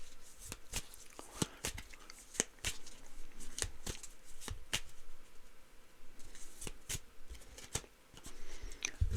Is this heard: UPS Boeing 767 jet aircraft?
no